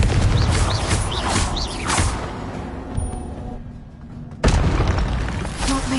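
Confringo blast spells going off in Hogwarts Legacy, a series of loud booming explosions with whooshing bursts, a brief quieter lull, then another sharp blast and continued rumbling.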